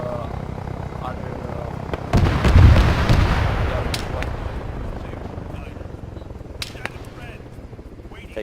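Arma 3 co-op gunfire: a heavy burst of shots and booming blasts swells up around two seconds in, then trails off into scattered distant cracks and rumble over the rest of the scene.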